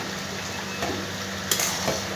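Ridge gourd paste fries in a pan, giving a steady, faint sizzle with occasional sharper pops and spatters, heard alone without voices.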